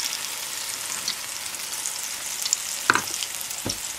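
Grated potato pancakes fry in hot oil until crusty, a steady close sizzle with a few brief knocks near the end.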